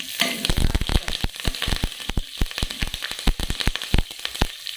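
Food frying in hot ghee gives a loud, close crackling sizzle packed with rapid pops and spatters throughout.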